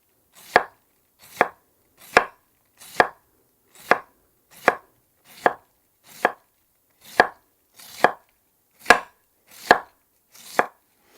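A knife chops ox-heart cabbage on a board in slow, evenly spaced strokes, about thirteen crisp, close thuds, each sharp crunch followed by brief quiet, with no voices.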